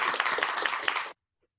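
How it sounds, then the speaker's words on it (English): Audience applause at an award event, a dense, loud burst of many hands clapping for about a second before it cuts off abruptly into silence. "We want to give you a big round of applause."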